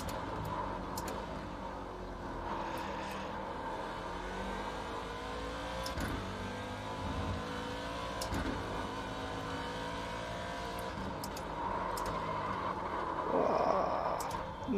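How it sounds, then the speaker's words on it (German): Chevrolet Corvette C7 race car in iRacing at Daytona, its engine revving and pulling hard under acceleration with rising pitch sweeps and brief gear-change breaks, a steady loud drone throughout. "Der zieht schon gut an, der Wagen."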